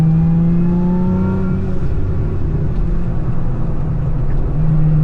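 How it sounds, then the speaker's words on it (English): A Lotus Emira at speed on a race track, its supercharged engine giving a loud, continuous induction whine over the engine roar, with the pitch rising and falling as it accelerates and lifts through corners, and no talking. "You can hear the induction from the supercharger. It whines."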